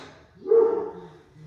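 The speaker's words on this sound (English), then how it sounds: "You might be able to hear my dogs in the background." Dogs barking in the background of a home workout: one short, muffled bark or yelp, fairly distant and moderately loud, over a quiet room.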